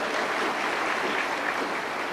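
A crowd at a spiritual discourse about the Mahabharata breaks into steady, even applause, a continuous wash of clapping with no pauses over about two seconds.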